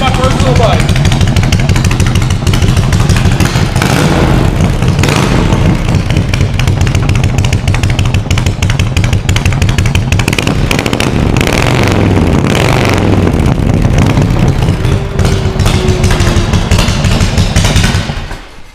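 A Harley-Davidson motorcycle engine idles loud and close with a steady lumpy pulse, a rough rapid thumping that runs throughout before cutting off at the end, while someone talks over it.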